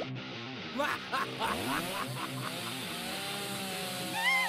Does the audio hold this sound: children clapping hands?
no